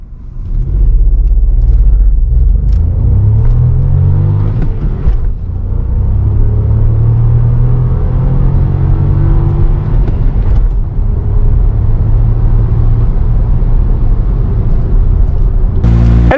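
A Volkswagen T-Cross 1.0 TSI three-cylinder engine pulls hard under acceleration, a loud steady low rumble with rising harmonic tones as revs climb through several gears, close and continuous with no voices.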